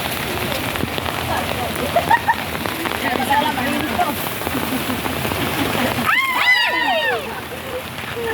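Steady rain patters on a surface nearby, continuous throughout, with a voice speaking briefly over it near the end.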